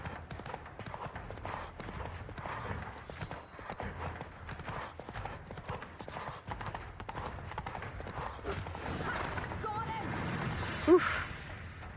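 Horse hooves gallop in The Witcher 3 video game, a rapid rhythmic clip-clop that runs steadily throughout with a brief whinny near the end, and faint talk mixed underneath.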